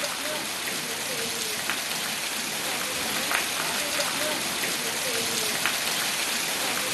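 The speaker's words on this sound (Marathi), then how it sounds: "तिकडे वाशिम जिल्ह्यात संध्याकाळच्या सुमारास जोरदार पाऊस बरसला" Heavy pre-monsoon rain falls steadily on an evening in Washim district, a dense continuous hiss of drops on surfaces with occasional louder splats, close and unbroken throughout.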